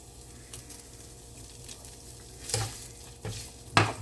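Pork carnitas sizzling in a pan while being broken up, a low continuous fry punctuated by a few louder scraping stirs of the utensil near the end, close by and without speech.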